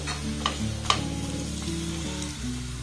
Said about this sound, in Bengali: এটাকে আমি বেশ লাল লাল করে ভেজে নিয়েছি